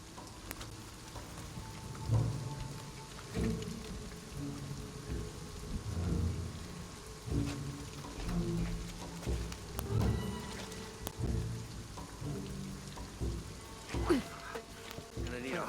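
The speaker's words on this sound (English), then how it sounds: "This storm is coming in quick." Rainstorm in Shadow of the Tomb Raider video game, steady rain hissing throughout with repeated low rumbles of thunder rolling in and out, faint voices occasionally mixed in.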